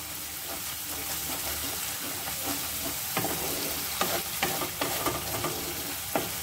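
Masala for a peas, paneer and potato curry fries in released oil with a close, continuous sizzle, punctuated by irregular spatula scrapes and taps against the pan.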